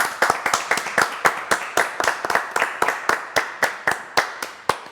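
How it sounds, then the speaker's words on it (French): Live audience clapping for Kenzo at a French television show, a steady run of sharp individual claps with a rapid, slightly uneven rhythm that continues throughout, close and clear with no talking. "Salut Kenzo, on l'applaudit."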